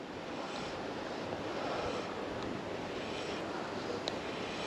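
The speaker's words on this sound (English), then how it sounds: "Wind's gusting all the time." Steady, loud wind roaring across an open microphone while salmon fishing on the River Doon, with a continuous rushing noise that swells slightly in gusts throughout.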